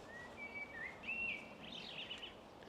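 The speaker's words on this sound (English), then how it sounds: "Listen to that blackbird." A blackbird singing outdoors in Isle of Wight undercliff scrubland, a series of fluting whistled phrases that rise and vary, fairly faint and distant over a soft breezy background, with no voices.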